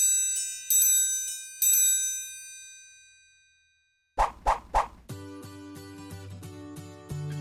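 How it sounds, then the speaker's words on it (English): A metal triangle held with two fingers is struck twice, giving bright ringing dings that shimmer and fade, followed by a few other short percussive hits and a sustained musical tone. "Triangle. This instrument has this name due to its shape."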